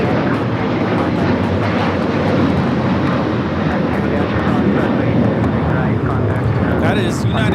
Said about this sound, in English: That is United Airlines 2086 taking off to Houston Intercontinental on the 737-900ER